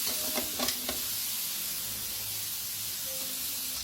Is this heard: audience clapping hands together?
no